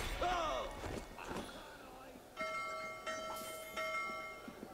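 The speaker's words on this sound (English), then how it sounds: "I hear a bell." A bell rings a few times with lingering metallic tones, mixed with thuds and game sounds, moderately loud in the background, in the video game Assassin's Creed Unity.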